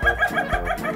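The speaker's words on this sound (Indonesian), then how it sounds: "Buat si ayam, ini adalah kokokan normal untuk bersaing dengan sesama jantan." An Ayam Ketawa rooster gives its laughing-like crowing call, a close, loud run of rapid cackling pulses that rise and fall in quick succession.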